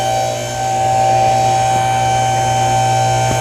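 A vehicle lift rising in a mechanic shop during a CVT transmission teardown gives off a loud, steady electric motor hum with a high whine. It drones on without a break and with no talking.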